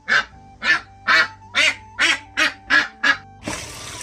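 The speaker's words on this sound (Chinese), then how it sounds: "今天老婆还抓只鸭子，改善家伙食升级了。" A duck, caught for a home meal on a rural rice-farming family's homestead, quacks eight times in a steady, evenly spaced series of loud, close, nasal calls, followed by a brief rustling scuffle.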